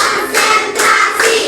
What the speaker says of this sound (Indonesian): Tepuk satu kata, tepuk dua, tepuk tiga, tepuk empat